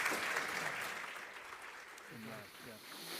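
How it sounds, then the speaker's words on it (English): A conference audience applauds after a business talk, steady clapping that tapers off as a voice starts speaking over the last moments. "Let's give a round of applause."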